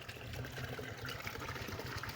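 Water runs steadily from a pipe at a farmyard, making a soft continuous pouring and trickling sound, faint and without talk.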